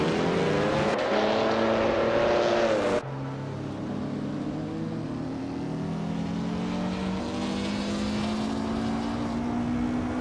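A 1950 Ferrari 125 F1 and other race car engines in a racing video game, loud and continuous. Engine tones rise under acceleration, cut off abruptly with a gear change, then climb again as the engines rev on.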